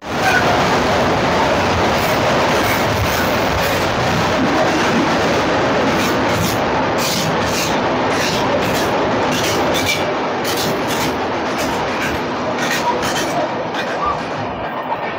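Local train rumbling steadily across the rail bridge over the Rupnarayan river near Kolaghat on the Digha–Howrah line, a loud continuous clatter and roar of wheels on track throughout with rhythmic metallic knocks.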